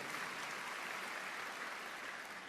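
A church congregation applauds during a sermon at Graha Bethany Nginden, a dense, steady wash of many hands clapping that fills the whole moment at moderate loudness with no voice on top.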